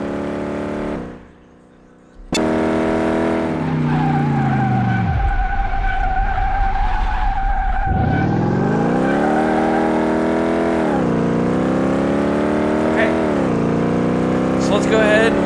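Sports car from Car Mechanic Simulator 2018 with the tuning add-on, its engine screaming at full throttle with a sustained high rev whine, a sudden rise after a brief lull, and tire skidding, loud and close throughout.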